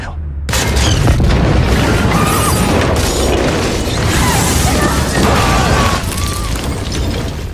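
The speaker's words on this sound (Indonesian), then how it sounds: "bom langsung meledak dan menghancurkan seluruh bangunan" A bomb destroys a university building in a massive, sustained explosion that roars continuously, a dense rumbling blast with crashing debris and crackling tones layered throughout, loud and close.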